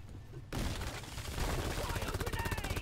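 Rapid, evenly pulsing weapon fire from the Overtuned Particle Accelerator in Deep Rock Galactic, starting abruptly and rattling loud and steady to the end, with faint game chatter mixed in.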